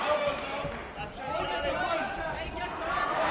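Live crowd at a CW 188 MMA bout between Jamie Abbott-Bissett and Charlie Falco, a steady murmur of cheering and chatter filling the arena, rising in swells under a commentator's talk.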